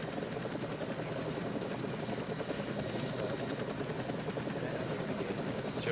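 A Chinook helicopter runs nearby at a training base, its rotors producing a dense, continuous thudding chop that stays loud and even throughout.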